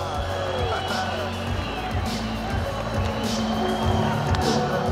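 An arena crowd at an ACA 168 MMA event in Moscow roars and cheers in a steady wash of noise, with an announcer's amplified voice over it.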